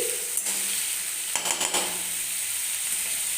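Onions and tomatoes frying in a pan on a low to medium flame for egg tadka, a steady bright sizzle with a few brief clinks and stirring scrapes midway.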